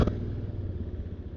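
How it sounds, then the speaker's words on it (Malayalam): A fuel-injected Bajaj Avenger 160 BS6 motorcycle engine rumbles low and steady at close range just after starting, a brief burst settling into an even idle. "എഞ്ചിൻ കിൽ സ്വിച്ച് ഓണാക്കി ക്ലച്ച്"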